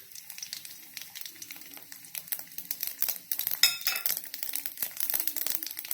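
Mustard seeds, urad dal and dried chillies pop and splutter in hot oil in a home kitchen, a dense run of sharp crackles building in intensity with occasional utensil clinks and no talking.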